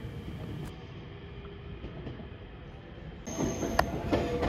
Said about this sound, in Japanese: 多度津駅17時34分発観音寺行き1両編成です。